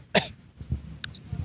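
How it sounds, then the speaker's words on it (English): A person coughs once, sharply, while eating food with gritty bits, followed by quieter mouth and throat sounds. "it's making me cough because it's got the little gritties."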